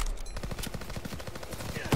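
Rapid gunfire in Call of Duty WWII during a D-Day beach assault, a dense stream of close, cracking shots in an uneven rhythm with a heavier blast at the end.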